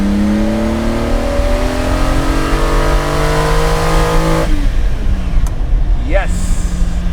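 Lamborghini Miura S, freshly restored from the ground up, accelerates at full throttle along a straight road; a loud, close engine climbs steadily through the revs, cuts off briefly at a gearchange, then pulls hard again.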